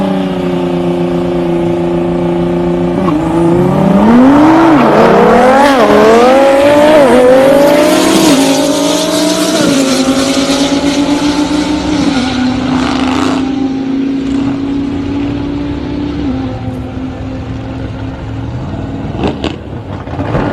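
A 1200-horsepower twin-turbo Lamborghini and a Nissan GTR accelerate together down a half-mile track. Loud engines climb through the gears with rising, falling revs, then fade into a sustained roar over about twenty seconds.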